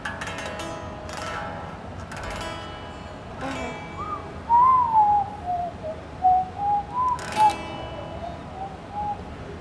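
A person whistles a wavering melody over soft guitar chord strums during a beginner guitar lesson, the clear thin tone sliding between notes at moderate loudness.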